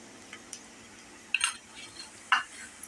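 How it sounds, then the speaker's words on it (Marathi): Onion browning with salt in a frying pan, heard as quiet background frying with a couple of brief spoon scrapes and clinks as it is stirred. No voices are present. "आता नॉर्मल ब्राऊन कांदा आपण करूया"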